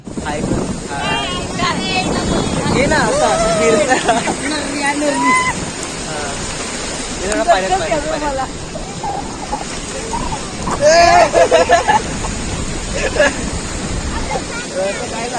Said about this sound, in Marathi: पाहू शकता हा आहे देवगड बीच. किती सुंदर आणि स्वच्छ आहे.